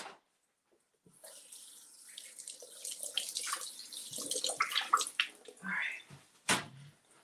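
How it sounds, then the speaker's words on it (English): Water runs from a kitchen tap as dishes are rinsed, a steady close splashing hiss that swells and varies with a few clinks and a sharp knock near the end, no voices. "Let's rinse these off."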